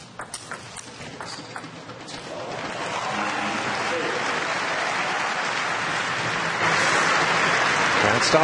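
A crowd at a table tennis match between Vladimir Samsonov and Jhang Jike breaks into applause that swells and grows louder, with cheering and a commentator's voice underneath.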